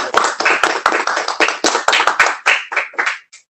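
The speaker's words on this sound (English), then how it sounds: "round of applause." A small group clapping for salutatorians at an online graduation with microphones unmuted, a sparse, uneven patter of individual claps, close and crisp, thinning out and stopping near the end.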